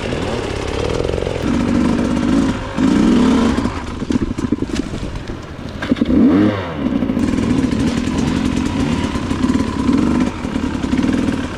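A hard enduro motorcycle engine in second gear drones loud and close in a steady buzzing pull, dipping and rising with throttle changes and rattly clatter midway before settling back into a sustained run.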